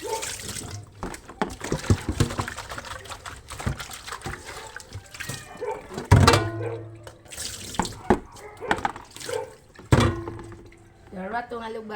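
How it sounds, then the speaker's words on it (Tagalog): Vegetables, fresh alugbati greens, are washed by hand in a basin of water, with splashing, sloshing and dripping in irregular bursts, close by, while a person talks over the water sounds. "Hugasan nato ng palanggana kay mamani itong hugasan."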